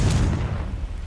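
A Confringo spell explodes in Hogwarts Legacy, a loud, deep, rumbling blast that is already underway and fades gradually over about a second.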